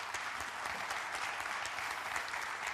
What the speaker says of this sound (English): which truly deserves a round of applause